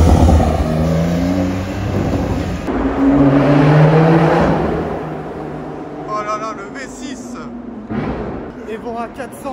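A Lotus Evora GT 430 with a V6 engine passes close by, its revving exhaust note rising in pitch, swelling loud and then fading into the distance. Quieter traffic and some talk follow as it goes.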